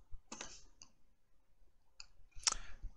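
Computer mouse clicks made while selecting and box-dragging entities in mapping software: a few short, sharp clicks in two separate bursts, close and fairly quiet, with no talking.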